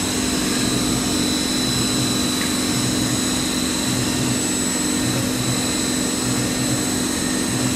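A Sharp CNC machine runs steadily at close range, a loud continuous mechanical drone with a constant tonal hum and broadband whir and no pauses.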